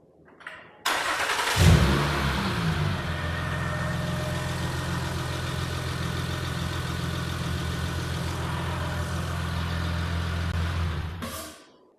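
After a brief crank, a car engine catches and settles into a steady, loud idle running for about ten seconds before shutting off, heard just after an oil change on a hydraulic quick jack.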